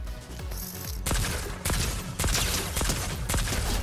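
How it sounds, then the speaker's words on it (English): Shotgun blasts in Fortnite come as a series of loud, punchy shots at uneven intervals over dense game noise, with a brief quieter stretch before the first blast. "Oh, that's a shotgun."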